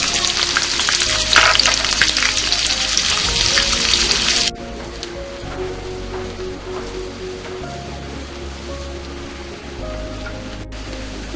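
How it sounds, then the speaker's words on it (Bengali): Chopped onions frying in hot mustard oil give a loud, dense sizzle that crackles steadily, then drops to a softer, quieter frying hiss partway through, alongside low background hum. "এরপর আমি 1 কাপ পেঁয়াজ কুচি এখানে গোল্ডেন ব্রাউন হওয়া পর্যন্ত ভেজে নেব"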